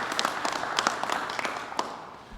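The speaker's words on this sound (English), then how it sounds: "I think we should all give him a round of applause for what he's done this time today." A crowd applauds at a Pennsylvania governor's event recognizing student athletes, a moderately loud patter of clapping with sharp individual claps standing out, sustained for a couple of seconds.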